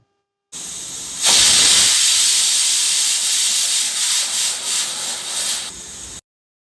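A pressure cooker of vegetable pulao on a medium flame vents steam in a loud, continuous, close hiss that swells and wavers slightly for several seconds before cutting off.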